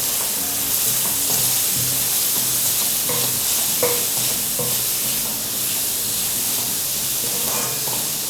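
Vegetables with chilli, turmeric and coriander powder are stirred in a pan under a loud, continuous hiss of frying, broken by a scatter of soft spatula scrapes and taps, with no talking.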